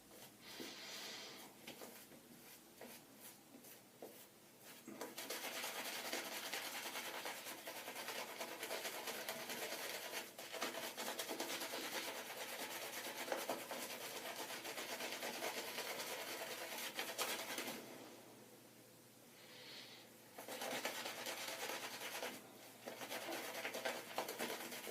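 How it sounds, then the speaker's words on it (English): A shaving brush scrubs against a white aftershave soap in a continuous close, rasping rub with brief pauses, quiet overall. "I'm getting a little bit of scrub with this brush"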